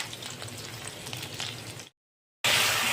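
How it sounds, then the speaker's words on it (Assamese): Onions and chillies fry in hot oil in a kadai, a steady close sizzle that cuts to silence and then returns louder and brighter. "এতিয়া পিঁয়াজ জলকীয়াখিনি ভাজি ল'ব লাগিব"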